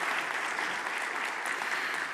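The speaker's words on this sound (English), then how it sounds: "And now the spontaneous applause." Audience at a maritime industry conference applauding a panel member, dense, even clapping that holds at a steady moderate level throughout.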